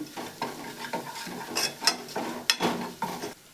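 Besan drink ingredients stirred together in a pot, a series of scraping, clinking strokes in an uneven rhythm, fairly close and moderately loud with no talk.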